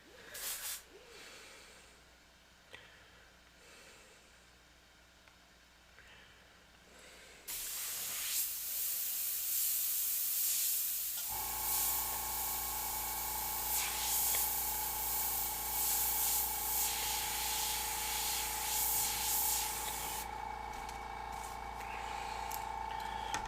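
An airbrush spraying paint: quiet faint handling noises at first, then a sudden, sustained airy hiss that runs continuously to the end, soon joined by a steady mechanical hum underneath, close to the microphone.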